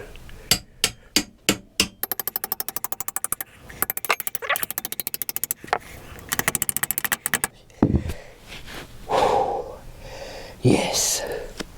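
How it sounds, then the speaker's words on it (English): A hammer drives a bolt into a Kawasaki GTR 1000 motorcycle frame in several rapid bursts of sharp metallic blows. The strikes are close and loud, followed by quiet talking at the end. "We do need the hammer, but we are going in."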